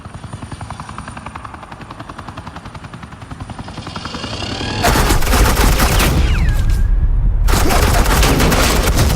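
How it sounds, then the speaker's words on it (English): Gunfire in the Batman: The Enemy Within video game, set against a steady helicopter-like drone: constant loud chopping, then a dense burst of rapid shots that breaks off briefly and resumes at full intensity. "Suppressing fire."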